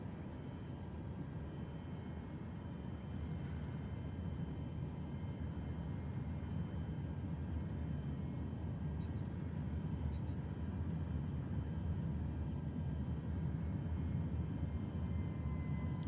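A Delta airliner on approach with full flaps in Microsoft Flight Simulator 2024 hums as a steady, dense low engine and airflow drone, unbroken throughout, with faint clicks now and then.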